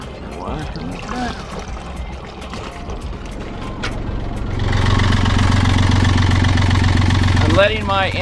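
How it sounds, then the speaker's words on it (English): A low boat engine rumbles at idle while warming up, growing steadier and louder partway through, with water splashing and a few clatters around it. "I'm letting my engine idle for about 5 minutes just to warm up the oil."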